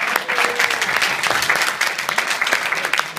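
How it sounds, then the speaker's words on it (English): Steady applause from a crowd, dense clapping that holds throughout without a break. "Round of applause for David Baker."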